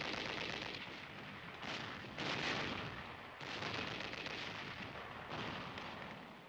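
Machine gun fire over a military infiltration course, heard as distant, rolling bursts of gunfire and blasts that swell and fade in several waves, with no voices.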